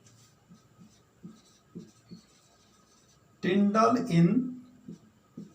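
Chalk or marker writing on a board during a Class 12 chemistry lesson on the Tyndall effect, heard as short, faint scratchy strokes in a steady rhythm, with a teacher speaking briefly in Hindi partway through.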